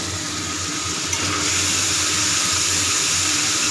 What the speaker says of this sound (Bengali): মশলাটা কষে নিই ভালো করে